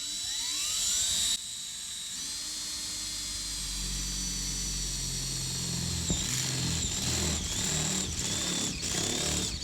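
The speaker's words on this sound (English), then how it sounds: "we're going to drill a hole" A power drill bores a 3/4 inch hole through the sheet-metal roof of a Chevy Astro van, a loud, close, high whine that shifts pitch as the bit bites and chatters through the metal.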